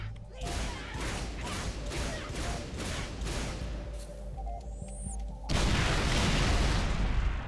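Grenade explosions in the video game Halo: ODST: a rapid series of heavy, booming blasts about every half second, merging into a dense, sustained roar that grows louder near the end.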